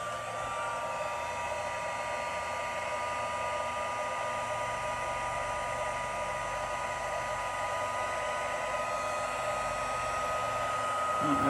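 Heat tool blowing hot air to melt embossing powder on a craft piece: a steady, continuous whirring drone with a faint high whine, close and unbroken for over ten seconds, with no talking.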